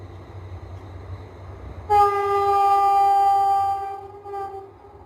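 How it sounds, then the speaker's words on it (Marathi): Low background rumble, then a loud train horn sounds near at about two seconds and holds steadily for a couple of seconds before cutting off. "सॉरी ट्रेन चालू आहे"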